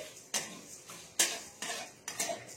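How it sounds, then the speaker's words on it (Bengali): Coriander with whole cardamom, black pepper and cloves being dry-roasted in a pan, stirred with a utensil: about five sharp scraping, rattling strokes at a steady pace, close by, with no talking. "এখানে আমি সবগুলো দিয়ে দিলাম, দিয়ে এগুলো আমি ভেজে নিচ্ছি।"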